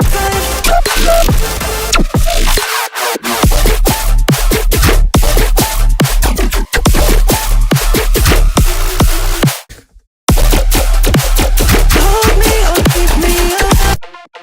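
Loud electronic music drop without spectral compression, dense pounding beats and bass with uneven, shifting levels, broken by two short gaps of silence.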